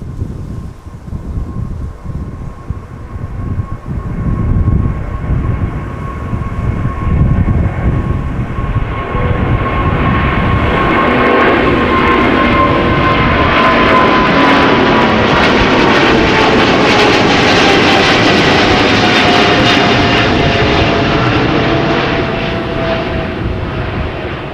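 A Boeing 777 moves at windy Amsterdam Schiphol Airport, its jet engines building into a loud, steady roar with a high whine that fills the scene, mixed with wind noise and no voices.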